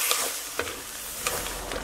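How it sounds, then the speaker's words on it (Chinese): Tomatoes stir-frying in a hot pan with scallion, garlic, chili, salt and soy sauce, a steady sizzle broken by a few sharp scrapes and clatters of the spatula. "炒出汤汁，放鸡蛋。"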